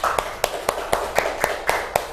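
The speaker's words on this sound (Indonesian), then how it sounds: "beri tepuk tangan buat kelompok 4" A classroom audience claps for group 4 after their presentation on halal and haram food, a light patter of about eight evenly spaced sharp claps over steady background noise.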